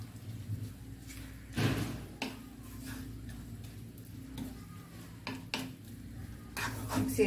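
Sugar syrup for laddu being stirred in a pan, with repeated scraping and knocking of a utensil against the pan at close range over a steady background hum, and no voice.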